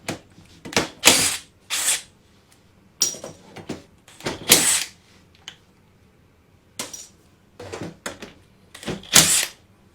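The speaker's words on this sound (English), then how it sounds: "I'll have to tap that liner out with a screwdriver." Screwdriver tapping a liner out of the transfer pump on a Perkins-powered Hyster roller's DPA fuel injection pump, a series of sharp metallic clicks and short rattling bursts in uneven clusters, close and fairly loud, with no talking.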